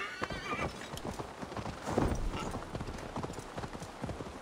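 A horse ridden in Assassin's Creed Valhalla clip-clops at a steady pace, its hoofbeats close and clear, with a brief whinny in the middle over soft outdoor ambience.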